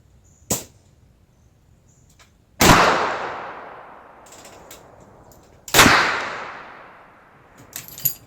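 Three loud rifle shots from a Marlin Cowboy lever-action in .38-55 fired at a 100-yard target outdoors, each a sharp crack followed by a long rolling echo, spaced a few seconds apart with no talk.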